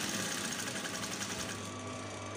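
A sewing machine stitching fabric for a corset top runs in a fast, even mechanical whir with rapid needle pulses, steady and close, with no talking.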